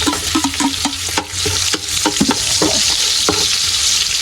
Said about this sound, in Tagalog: Bali, gisa natin kanyang ricado. Bawang natin kunti lang mga idol.